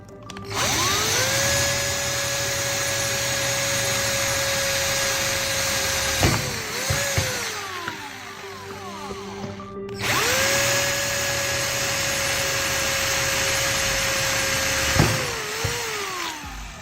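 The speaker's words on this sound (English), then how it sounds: "Drill 2 holes in both caps to attach bolts as the electrodes." A power drill whirs in two long bursts into plastic caps, each winding up to a steady high whine and then spinning down, loud and close.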